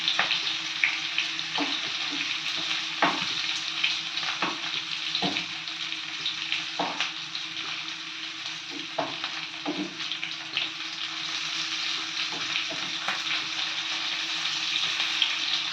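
Chicken tandoori frying in a pan gives a steady, close sizzle that lasts throughout, with scattered sharp pops and crackles and no talking.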